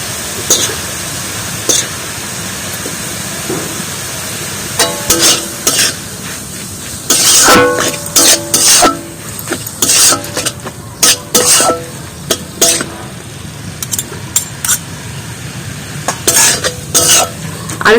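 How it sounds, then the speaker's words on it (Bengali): Giant taro stalks are stir-fried in a pan, with a spatula scraping and clattering against the metal in repeated bursts over a low, steady sizzle, close and fairly loud. "আরো খানিকক্ষণ জাল দিয়ে নেবো প্রচুর, এটা আর একটু কষিয়ে নেবো।"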